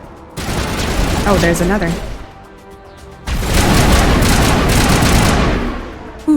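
Rapid gunfire bursts from a shooter in the game Mass Effect, loud volleys filling most of the span with a short lull between them, while a player speaks briefly over the shooting.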